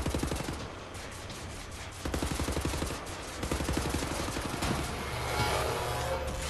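Dual-wielded guns firing in the video game Wolfenstein: The New Order, producing continuous rapid automatic bursts with slight pauses between volleys, loud and close.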